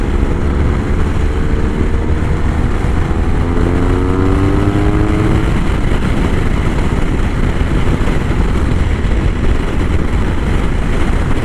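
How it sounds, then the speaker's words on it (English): A BMW R1200 RS motorcycle accelerates with a steady, loud engine roar and strong wind rush from start to finish, the engine pitch climbing briefly early on, with no talking. "A lot of torque in this bike"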